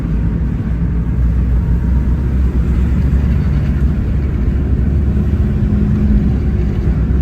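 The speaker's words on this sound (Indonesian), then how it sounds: "Bagian kaki-kaki juga berisik teman-teman ya." Steady low rumble of a 2005 Honda Jazz CVT driving, with noisy suspension, road and chassis noise continuous throughout and no voices.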